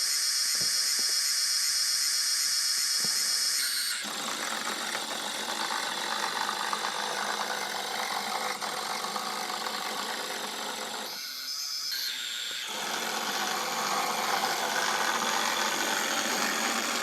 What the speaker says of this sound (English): The driving motor is actually in this carriage here, and the locomotive is free-running.